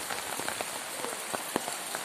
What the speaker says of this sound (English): It has been raining throughout the night